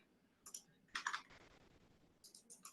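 Typing on a computer keyboard, close and quiet, with short bursts of clicking keystrokes separated by brief pauses.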